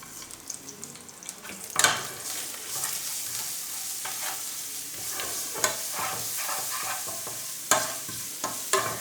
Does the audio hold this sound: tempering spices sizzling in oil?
yes